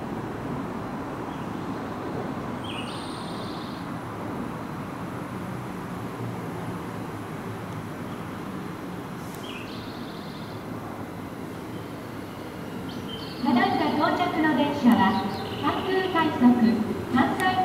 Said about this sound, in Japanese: まもなく2番線に電車が到着いたします。